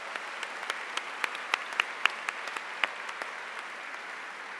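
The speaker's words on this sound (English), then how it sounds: "Let's have a round of applause for our amazing class of 2024." A crowd applauds at a 2024 law school commencement ceremony: steady, dense clapping with sharper individual claps standing out, heard at a moderate distance with no speech over it.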